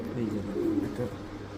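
A racing pigeon coos in low, throaty murmurs, close and moderately loud, across a short stretch.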